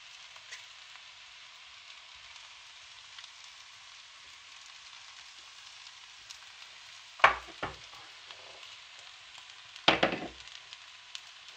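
Shrimp frying in a pan with paprika and ginger, a steady soft sizzle throughout, broken by two brief louder clatters of stirring.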